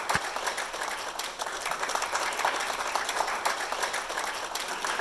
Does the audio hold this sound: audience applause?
yes